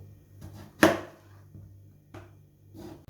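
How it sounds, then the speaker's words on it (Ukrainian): A knife slices eggplant pieces in half on a board, with one sharp, loud cut and a few softer taps around it, close and otherwise quiet. "І тепер кожну частинку ще ось так перерізаю навпіл."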